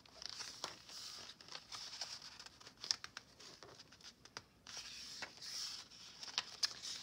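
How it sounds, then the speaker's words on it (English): Punched paper rustles and crinkles in short, close bursts as it is handled, with no talking. "That's punched paper."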